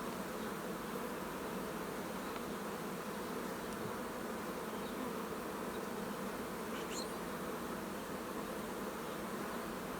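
Honey bees in a queenless starter colony, opened for inspection, make a constant dense buzzing hum at close range, steady throughout with no voices.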